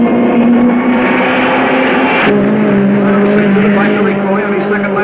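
Race car lapping a track, a loud sustained engine drone that drops abruptly in pitch partway through as it passes close by, with a voice talking faintly underneath.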